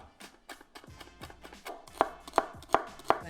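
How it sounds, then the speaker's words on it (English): Close, steady knife chopping of red pepper, jalapeno, green pepper and celery for crab dip, with quick cuts that build into four sharp, louder board strikes near the end. "So now we've completed cutting up all of our vegetables."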